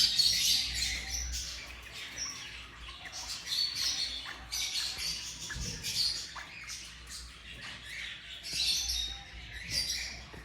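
Pet parrots, including rosellas, lorikeets and African greys, squawk and chirp in a shop in Islamabad, with harsh repeated bursts near and far over low background noise.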